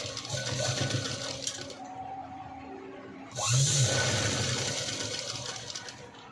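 A sewing machine stitching a zip onto a blouse whirs steadily, pauses briefly, then runs on with a faster, louder hum, heard close up with no talk.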